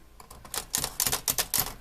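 Close, crisp keystrokes on an Olympia typewriter from around 1970 clack in a quick, uneven rhythm, building from light taps into firmer, louder strikes, with no voices over them.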